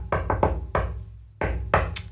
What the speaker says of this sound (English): What's your door knock sound like, Zach?